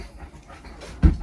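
A dog pants steadily inside an RV trailer, close and soft, before a louder thump near the end.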